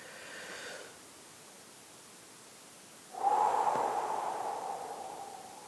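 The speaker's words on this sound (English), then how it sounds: "So we're going to breathe in deep, because you expand your stomach." Deep breathing during a guided energy-healing exercise: a soft breath near the start, then a long, fairly loud exhale or inhale of rushing air lasting a few seconds, close to the microphone, with no talking.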